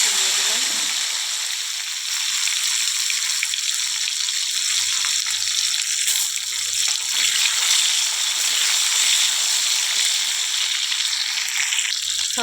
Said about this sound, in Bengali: ফোড়নটা একটু ভাজা হলে টমেটো কুচি দিয়ে দিলাম।